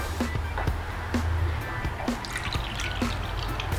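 Water trickles and drips as one and a half cups are poured into flour for pita dough, a close, uneven dribble with soft splashes and faint background voice.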